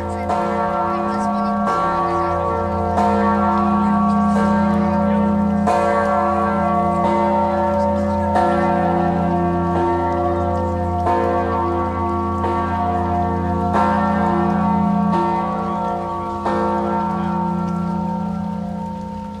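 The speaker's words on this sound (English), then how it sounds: "As the tone of that bell rings out" A large bell is struck again and again, its deep hum and layered overtones ringing out loud and full, each new strike overlapping the long resonant decay of the last.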